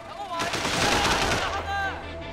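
Rapid gunfire rattles in a dense burst in Sleeping Dogs, loud and close, and a voice can be heard faintly underneath.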